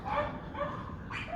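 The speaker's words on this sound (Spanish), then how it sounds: "se escuchan muchos perros aquí alrededor" Dogs around a backyard patio with potted plants give a short run of barks and yips, fairly close and clear, with no one talking.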